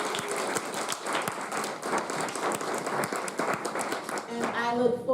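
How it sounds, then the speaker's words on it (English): Audience at an awards talk event applauding winners, a sustained patter of many hands clapping at moderate distance, with a voice coming in toward the end. "Let's give them a round of applause as well."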